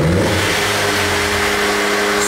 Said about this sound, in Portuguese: repara aí quando eu acelerar o carro